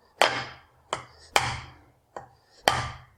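The pointed end of a hammer taps supposedly unbreakable glass five times in an uneven rhythm, each a crisp close knock with a short ringing decay.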